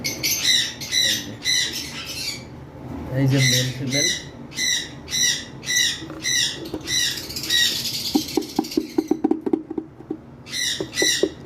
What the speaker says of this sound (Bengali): আমাদের ডিম পাড়া একটা পেয়ার পাখি রয়েছে যেটা ডিমে অলরেডি বসে আছে